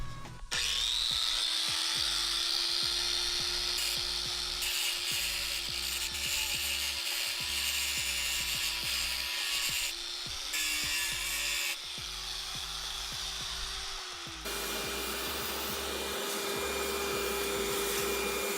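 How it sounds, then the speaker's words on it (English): Angle grinder with a sanding disc works the lip of a car wheel, a loud steady whine running almost unbroken through the clip, with brief pauses and shifts in pitch as pressure changes. "if that doesn't work, we're going to go over to an angle grinder"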